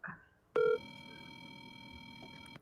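A telephone line clicks and gives a short, loud dialing tone, then settles into a steady sustained electronic tone that stops abruptly, heard close with no speech.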